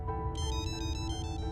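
Mobile phone ringtone ringing, a repeating electronic melody pulsing in quick rhythmic bursts, fairly quiet and steady with no talk over it.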